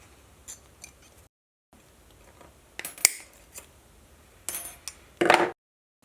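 Scissors snipping through plastic air assist tubing for a K40 laser cutter, giving a few sharp, close clicks and crisp cuts with short pauses between, ending in one louder, longer snip.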